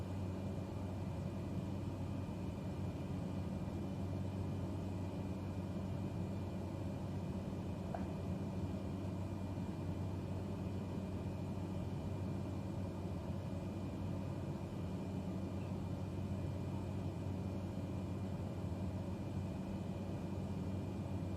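A Cessna light aircraft engine drones steadily in flight in Microsoft Flight Simulator 2020, heard from inside the cockpit over the coast near Hatteras as a constant low hum and rumble at reduced power, unbroken and without talk.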